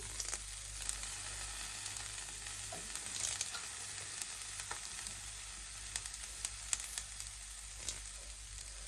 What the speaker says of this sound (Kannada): ಕರಿಬೇವಿನ ಸೊಪ್ಪು ನನ್ನ ಹತ್ರ ಇದೆ ಇಲ್ಲಿ ನೋಡಿ, ಇದನ್ನು ಹಾಕ್ತೇನೆ ನಾನೀಗ.